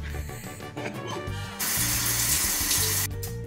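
A shower runs during a hair-washing routine in a Paris home, its water rushing in a loud, steady broadband hiss that swells from about halfway through and cuts off near the end, with no talking.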